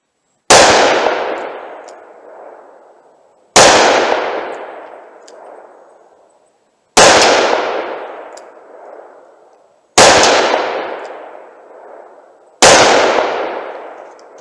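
Five loud, sharp shots from a .357 Magnum snub-nose revolver with a 2-inch barrel, spaced about three seconds apart, each striking a metal tank and ringing out in a long, fading metallic clang.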